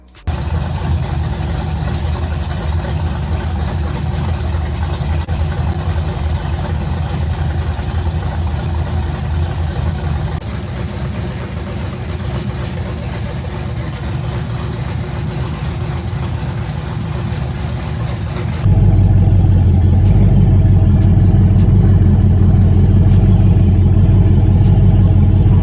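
A Chevrolet Caprice PPV fitted with JBA headers runs loud and close, its steady low exhaust rumble holding for about eighteen seconds before shifting to a deeper, heavier drone.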